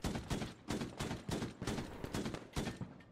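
A mounted .50 cal turret machine gun fires in the military game Squad, loud short bursts repeating in a steady pounding rhythm, about two or three per second, with no voices over them.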